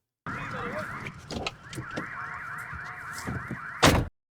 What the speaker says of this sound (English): Oh, sirens.